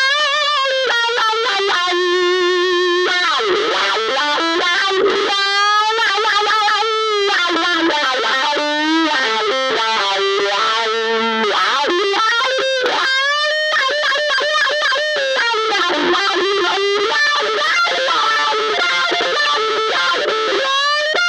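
An electric guitar runs through a Dunlop Cry Baby GCB95 wah pedal with distortion, playing loud sustained notes and bends whose tone sweeps up and down continuously, with no voices.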